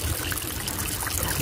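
Water runs steadily from a tap in a pen for fattening sheep, a loud, close, continuous trickling and splashing with no pauses.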